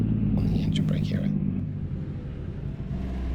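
Kenworth K100E cabover truck with an Allison HT750DRD automatic, its engine brake giving a steady low rumble throughout, with faint breathy voice-like sounds over the first second and a half.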